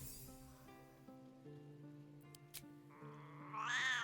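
A cat in Baldur's Gate 3 meows once, loudly and rising at the end, over soft background music with harmonic tones.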